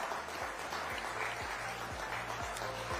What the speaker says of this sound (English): applause for Finance Minister Nirmala Sitharaman.